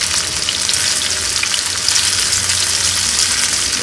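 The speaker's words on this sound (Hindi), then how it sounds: "इसको हाई फ्लेम मत करिएगा, मीडियम लो पर इसको फ्राई करिएगा।" Soya chaap frying in oil in a pan over a medium-low flame, giving a dense, loud, steady sizzle and crackle close up, with no speech.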